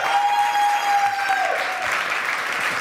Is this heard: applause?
yes